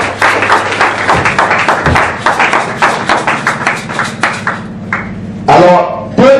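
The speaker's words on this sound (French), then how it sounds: "Nous acclamons très fort Seigneur Jésus." A church congregation claps loudly for Jesus in a fast, steady rhythm. A person speaks briefly near the end.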